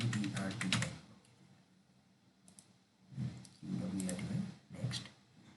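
Keys clattering on a computer keyboard as a password is entered during a Windows 11 install, in two quick bursts of close clicking separated by a quiet pause, with a few isolated taps between.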